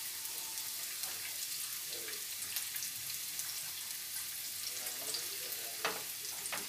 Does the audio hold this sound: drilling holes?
no